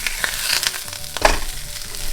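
Burger patties sizzle and fry on a hot griddle for a homemade In-N-Out Double-Double, a steady close crackle with a sharper burst of spatter near the middle, and no voices.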